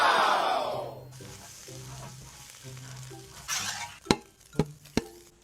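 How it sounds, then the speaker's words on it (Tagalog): Eggs sizzle and are stirred in a hot pan, scrambled as the first step of a large batch of chaofan fried rice, a loud frying hiss that settles before three sharp clanks of a utensil against the pan. "Kailangan muna nating i-scramble daw yung itlog."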